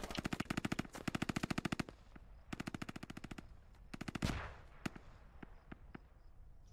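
Bursts of SAW light machine gun fire in the video game Squad rattle out in rapid, sustained strings, followed by a loud blast and scattered single shots, all close and dominant.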